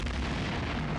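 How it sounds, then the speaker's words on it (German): A console explodes in the video game Star Trek Elite Force, a dense, loud sustained roaring blast that fills the whole moment without voices. "Einfach mal die Konsole explodieren lassen und dann ist es schon gut."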